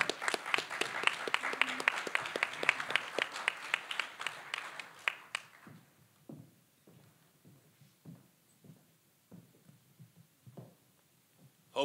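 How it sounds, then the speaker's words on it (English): Applause for a speaker at a women veterans seminar: dense clapping from the audience for about five seconds, then thinning to scattered individual claps that trail off over the next several seconds. "All right, give a warm round of applause for Dusty Baxley."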